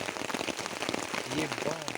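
Heavy rain pattering densely in a forest, a close, continuous patter of drops with a faint voice murmuring underneath.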